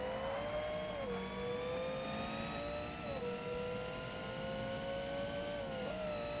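Race car engines roar in the Forza Motorsport video game, one engine climbing in pitch and dropping at each gear shift, steady and loud with a layered engine drone beneath and no talk.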